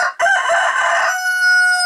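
A rooster crows loudly and close by, a long drawn-out call, with hens clucking around it.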